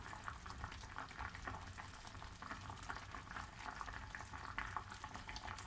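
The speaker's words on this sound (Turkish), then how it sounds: "şu anda son dakikayı kaynatıyorum" Thick quince jam bubbles and boils steadily in a pot, with constant popping and sputtering at low volume and no voices.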